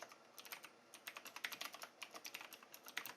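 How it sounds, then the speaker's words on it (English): Quick, light clicking keystrokes on a computer keyboard, typed in short uneven bursts with brief pauses, quiet and close. "just type this in"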